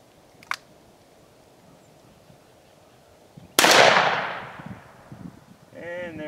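A single loud shot from a Hornady Triple Defense shotshell fired through a Circuit Judge rifle at about 30 yards cracks sharply outdoors and rings off into a decaying tail, with a brief voice following.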